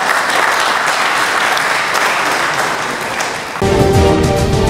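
A conference audience in the Democratic Republic of Congo claps loudly and steadily, a dense ovation that dips briefly before a voice over a loudspeaker cuts in near the end.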